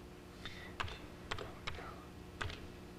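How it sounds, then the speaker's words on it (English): Keys tapped on an Amiga 2000HD computer keyboard while a disk is renamed, four or five sparse, separate clicks over a steady background hiss, quiet and close. "I type in my new name."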